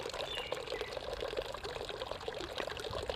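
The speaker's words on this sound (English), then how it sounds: "I love the sound of this fountain. It's a nice, slow, steady trickle." Garden fountain water trickling in a slow, steady stream, a continuous close-up splashing and pouring without pause, with no talk over it.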